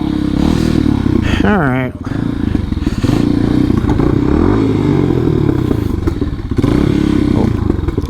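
A Sherpa motorcycle engine, just rebuilt, revs loudly and close during a wheelie, a rough roar that climbs sharply in pitch, briefly drops, then keeps running with clatter and thumps while someone speaks briefly.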